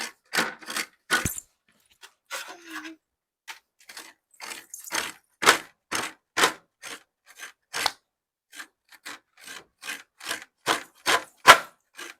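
Fresh coconut being grated by hand in a home kitchen: a string of short, dry scraping strokes, close and fairly quiet, in uneven bursts with brief pauses and no talk.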